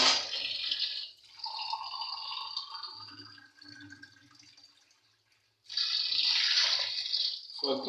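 Tap water runs and splashes over goat meat being rinsed in a home kitchen, streaming in two bursts with a quieter gap between them, with some speech mixed in.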